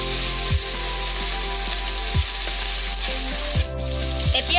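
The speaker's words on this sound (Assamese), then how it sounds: "গৰম হ'লে আমি মাছকেইটা ইয়াতে দি ফ্ৰাই কৰিম।" Singhara fish fry in hot oil in a wok, giving a loud, continuous sizzle that stays close and even throughout, with no talking.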